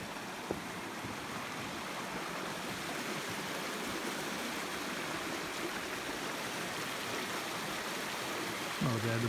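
Gorge Brook pours steadily below a walk bridge in Kitty's Gorge, a broad continuous rush of running water that holds level throughout with no voices over it.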